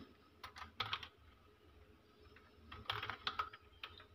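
Keys clatter faintly on a computer keyboard while typing in Microsoft Word, in two brief clusters of quick keystrokes with a quiet gap between them.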